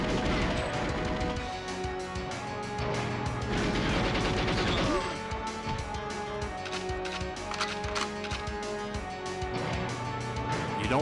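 Gunshots in GoldenEye 007 on the Cradle level: a busy run of sharp game weapon reports and clanking mechanical hits over a steady backdrop, fairly loud throughout with no voices.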